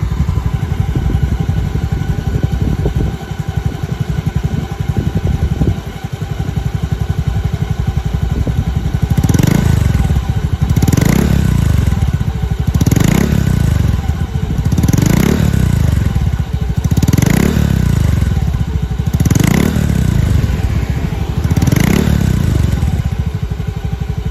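A Mio i 125 motorcycle fitted with an MT8 exhaust pipe idles up close, then gets revved in about six regular blips, each a deep, loud rise and fall.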